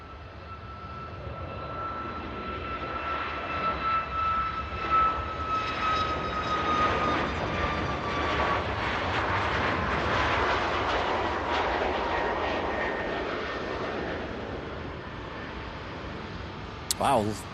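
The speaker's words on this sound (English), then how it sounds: "long rotation there from the Ryanair 737 MAX" Ryanair Boeing 737 MAX taking off at Manchester Airport, its engine roar swelling and peaking midway before slowly fading into the distance, with voices at times over it.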